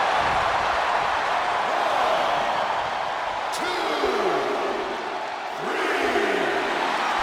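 A wrestling arena crowd roars in a steady, loud wash of cheering and shouting throughout, with a brief dip near the end before swelling again.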